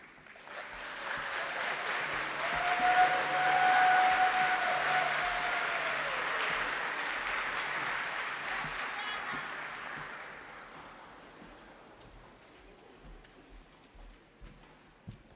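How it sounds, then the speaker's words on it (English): An audience at an Alaska Pacific University event applauds after songs, a dense wash of clapping that swells quickly, peaks, then slowly thins and fades, with a sustained tone and faint voices mixed in early. "Can we give them one more round of applause?"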